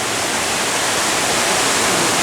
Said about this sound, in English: All there is this waterfall that you can see at the end of the cave